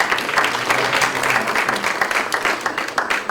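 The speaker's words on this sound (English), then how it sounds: "she deserves a round of applause" Steady applause from a livestreamed gathering's audience, a thick, even wash of many hands clapping at close range throughout.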